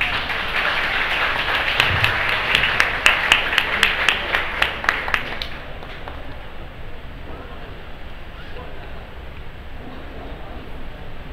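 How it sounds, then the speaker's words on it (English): Audience applause at a Chinese culture Spring Festival evening gala in a university student hostel, a burst of sharp claps lasting several seconds before fading into quieter room noise. "Please give them a round of applause."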